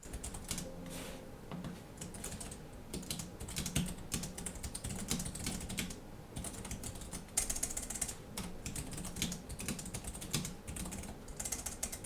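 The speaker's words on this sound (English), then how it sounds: "Let's type a little bit more here." Steady typing on the mechanical-style keyboard of a Corsair A1600 Voyager laptop, a continuous patter of close, fairly quiet key clicks with a few louder strikes.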